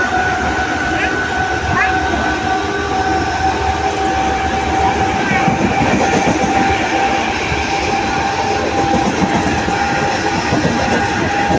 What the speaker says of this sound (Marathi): छत्रपति शिवाजी महाराज टर्मिनस जाने वाली 12 डिब्बों की तेज लोकल है।